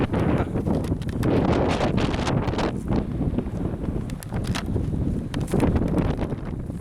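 Strong wind gusts buffet the microphone outdoors in a wooded area at an old mine site, a steady loud roar with rushing surges and no talking.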